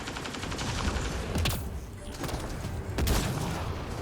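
Weapon fire in the game Mass Effect Andromeda, dense rapid shots in a steady burst with a couple of heavier booming hits standing out, loud and continuous throughout with no talking.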